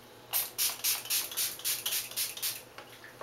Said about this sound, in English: So this is just a spritz.